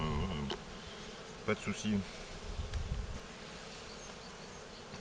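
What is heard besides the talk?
honeybees around an opened Dadant hive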